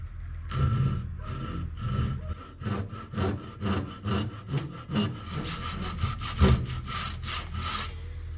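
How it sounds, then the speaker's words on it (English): A hand saw cuts through wood with steady back-and-forth rasping strokes, roughly a dozen rhythmic pulls heard up close and alone, each stroke swelling and fading. "Use the saw that I got laying here."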